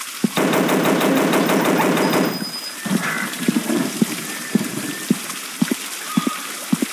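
Rapid automatic gunfire in the mobile game Dinosaur Hunter, a dense burst for about two seconds, then scattered single shots and short cracks spaced through the rest.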